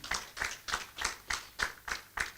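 Audience at a wedding-preparation conference claps in a slow, steady rhythm, eight distinct in-unison claps over a couple of seconds, fairly close and moderately loud with no talking.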